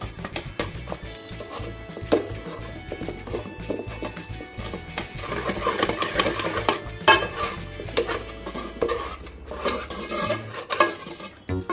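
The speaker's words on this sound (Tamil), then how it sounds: "நல்லா இந்த மாதிரி கடைஞ்சிக்கலாம்." Repeated soft thuds and scraping of a utensil mashing cooked lentils in a pot, steady and close, with occasional metallic clinks.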